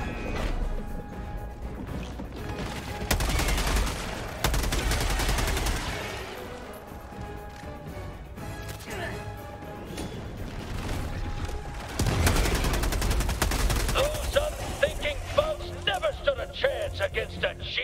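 Gunfire in the video game Helldivers 2 comes in loud rapid bursts and crashing impacts, fading in and out over game music and effects, with a voice talking at points.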